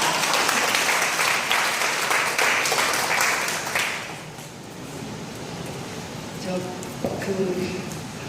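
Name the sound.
audience applause in lecture hall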